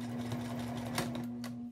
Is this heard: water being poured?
no